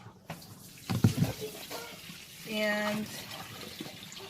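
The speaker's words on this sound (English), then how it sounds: "it just pours all the water into the bin" Water from a portable washing machine, switched to drain after a wash cycle, pouring into a bin, a steady rushing flow that builds midway, with brief speech and clatter around it.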